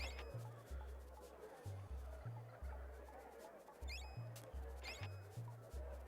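Chickens cluck in the SNES role-playing game Secret of Evermore, quiet repeated clucks over a steady low pulsing game music loop, faint and continuous throughout.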